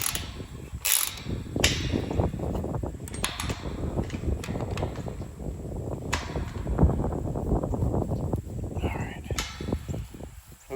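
A hinge clamp on a newly installed fence gate is tightened with a tool, giving off a run of close mechanical clicks and ratcheting scrapes, with a few sharper knocks scattered through.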